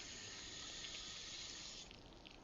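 Water rushes steadily through a portable instant gas water heater fitted with a pilot light, giving a close, continuous hiss that eases slightly near the end.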